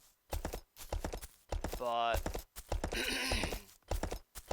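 Horse hooves clip-clop in the video game Kingdoms, rhythmic bursts of steps broken by pauses, heard alongside a speaking voice and other game sounds.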